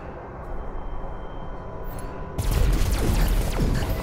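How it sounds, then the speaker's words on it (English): Cannon fire in the video game Skyforge breaks out suddenly partway through, a loud burst of booming blasts and crackling rumble after a quieter, muffled background. "Cannon."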